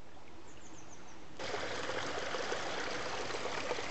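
A fast-flowing, steep stream in a winter valley rushes and gurgles close by, starting softer and then swelling to a loud, steady wash of water.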